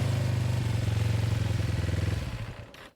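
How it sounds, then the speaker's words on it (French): A Yamaha Trail motorcycle carrying two helmeted riders comes up close and loud, its engine thrumming steadily before the sound tails off and cuts out near the end. "une moto Yamaha Trail avec 2 hommes casqués surgit de nulle part"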